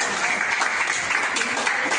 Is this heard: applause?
yes